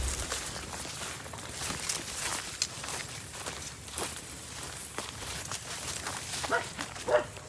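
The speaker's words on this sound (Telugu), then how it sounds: "కుక్కలు కూడా ఉన్నాయా?" Dogs bark in a forest near a lake on a university campus: several short, sharp barks and yips at mid distance, spread irregularly over a rustling background with footsteps.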